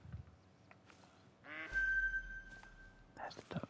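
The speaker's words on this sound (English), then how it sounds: "There's the ducks." Ducks quack in The Hunter: Call of the Wild, a short burst of calls in the middle with more quacks near the end. A voice talks at moments and a steady high tone runs through part of it.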